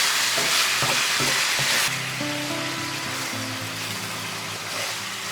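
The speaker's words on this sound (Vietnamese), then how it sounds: "Tăng lửa trên mức trung bình và mình xào cho thịt gà săn lại" Loud, steady sizzling as marinated chicken stir-fries over medium-high heat in a pan for a sponge gourd dish, with a few sharp scrapes and clinks of a utensil stirring early on.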